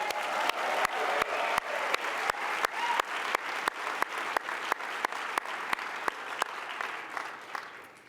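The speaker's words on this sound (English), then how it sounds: "can we give a big round of applause for our volunteers?" Audience at a South by Southwest EDU keynote applauds volunteers, a dense wash of clapping with steady rhythmic hand claps cutting through, sustained for several seconds before tapering off at the end.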